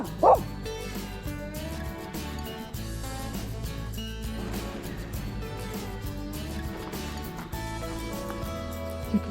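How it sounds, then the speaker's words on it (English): A dog barks and yips a few times, with a whimper, under steady music or a busy mixed background, mid-distance and not very loud. "What are you barking at?"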